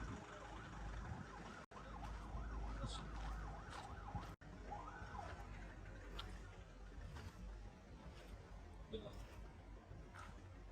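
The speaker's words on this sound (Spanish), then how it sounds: "Va a entrar una ambulancia por ahí" An ambulance siren wails on a street near a shopping area by the beach in Punta, faint and distant under nearby conversation and passing traffic noise.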